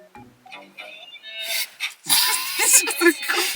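A dog at night in a room where people are trying to sleep, making short whimpering, yipping sounds under and between hushed talking, growing louder and busier in the second half.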